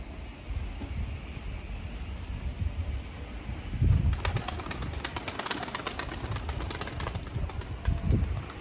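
Pigeons on a rooftop in Mardin, soft cooing and fluttering wings under steady wind noise outdoors, with a burst of wingbeats midway as birds take off, birds heard at moderate distance.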